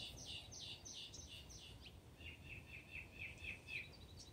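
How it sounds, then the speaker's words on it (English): A mockingbird sings a run of quick, high repeated chirping phrases, fairly faint against a steady low outdoor background hum. "there's a pretty bird"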